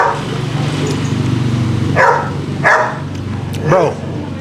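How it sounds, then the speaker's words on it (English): A chained-up dog barks in a few sharp, spaced yelps, moderately close, over a steady background hum and under ongoing conversation. "poor dog's chained up, has nowhere to go."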